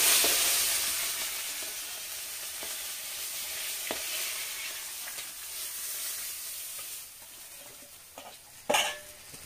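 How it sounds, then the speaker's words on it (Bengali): Fish frying in hot oil in a kadai, a steady close sizzle broken by scrapes and clinks of stirring, ending in a sharper metallic scrape; no talking. "মাছ ভাজা হয়ে গেছে, মাছগুলোকে তুলে নেব।"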